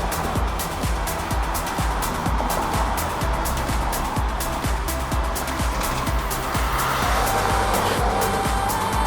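Cars rushing past fast on a road beside a bike lane, a loud continuous roar of traffic and tire noise close by, with steady rhythmic thumps from the road surface and no talking.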